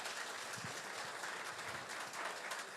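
An audience clapping steadily in a hall, a dense continuous patter of many hands at moderate distance, fairly quiet and unbroken for the whole stretch, with no speech over it.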